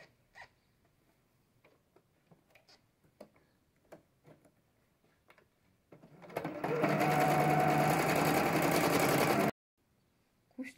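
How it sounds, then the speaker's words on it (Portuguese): Sewing machine running a closing stitch along the folded edge of a fabric envelope wallet, a loud continuous whirring burst of about three seconds after quiet handling clicks, then stopping abruptly. "passar uma costura bem aqui na bordinha"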